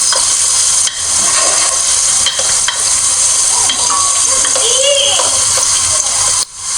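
Pilau cooks in vegetable oil in a pot, giving a loud, close, continuous sizzle with intermittent stirring scrapes and clinks, while children's voices play faintly in the background.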